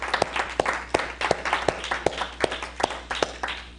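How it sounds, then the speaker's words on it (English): A small group gives a short round of applause for a participant in a coaching demonstration, sparse individual claps landing in a loose, uneven rhythm, fairly close and fading quickly. "Give her a round of applause for that."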